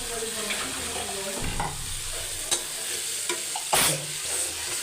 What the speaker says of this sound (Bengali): এবার এটা আমি সুন্দরভাবে কষাবো।